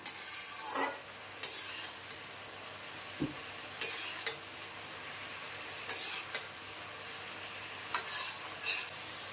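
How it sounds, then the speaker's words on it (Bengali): Spices frying in a pan for doi potol, a low steady sizzle broken by repeated scraping stirs of a spoon against the pan at irregular intervals, with no talk. "1 থেকে 2 মিনিট একটু নাড়া দিয়েই মশলা যখন পুরো ভাজা ভাজা হয়ে যাবে"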